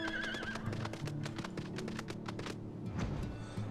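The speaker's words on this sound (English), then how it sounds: "we're taking the Earth Horse that I unlocked this morning" In Final Fantasy XIV, the Earth Horse mount's hooves clip-clop in a steady rhythm, joined by a whinny and soft game music.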